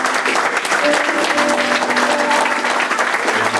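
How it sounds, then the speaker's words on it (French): A church congregation applauding and cheering for Jesus during a French-language sermon on marriage, a steady wash of many hands clapping close and loud throughout. "Est-ce qu'on peut acclamer pour Jésus?"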